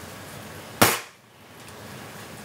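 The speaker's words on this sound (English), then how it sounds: "the sound of the gun when you shoot it is kind of clunky" A single sharp, clunky shot from a Gamo Silent Cat air rifle, loud and close, followed by quiet background.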